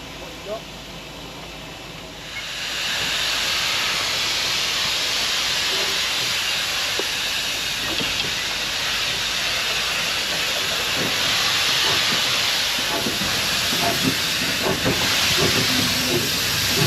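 A pannier tank steam locomotive at a heritage railway gala station lets off a loud continuous hiss of steam that starts after a couple of seconds and holds steady, with mechanical clanks and rumble beneath and people talking nearby.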